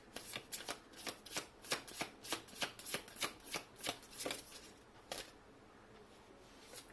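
Tarot cards shuffled by hand in a quick riffling rhythm, about a dozen crisp bursts over five seconds that then stop, leaving a quiet room.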